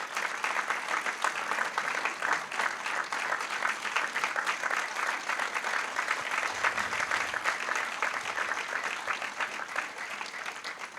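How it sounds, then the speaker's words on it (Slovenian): Sustained audience applause at a tribute evening in Divača, dense even clapping from a large crowd lasting around eleven seconds without pause or voices. "Nocoj ta poklon velja Borisu Cavazzi, zato vas prosim, da ga pozdravimo in mu skupaj zaploskamo."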